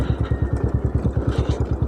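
Motorcycle descending a stony, slippery off-road track near Thandiani, Abbottabad: a close, chugging engine with a fast, even pulsing beat at low revs over a couple of seconds.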